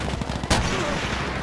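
Gunfire in the World War II shooter Call of Duty: World at War, a sharp shot cracking out midway over a steady backdrop of game battle noise and distant rattling fire.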